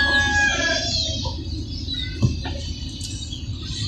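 Chickens clucking and a rooster calling nearby, with scattered squawks over a low background murmur; no one speaks.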